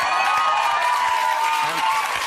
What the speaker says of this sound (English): now half the audience is clapping